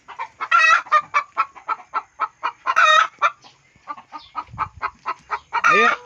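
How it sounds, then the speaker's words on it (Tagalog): White leghorn laying hens cluck close by in a rapid, rhythmic series of sharp calls, several louder squawks rising above the steady pulse, with a brief low rustle partway through. "Yung manok to na umiitlog, bale white leghorn ang tawag dito sa amin, Kal."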